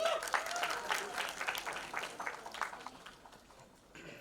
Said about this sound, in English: can we have a big round of applause for Satyaraj sir?